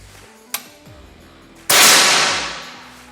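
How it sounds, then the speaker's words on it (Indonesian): A faint click, then about a second later a single loud, sharp shot from an SR air rifle whose bright ring fades away over the next second or so. "Tembakan yang ke-7"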